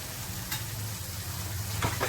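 Kashmiri chili, coriander and cumin powders fry in oil in a pan for egg curry, a steady close sizzle with a low hum and a few sharp scraping strokes of a spoon stirring the masala.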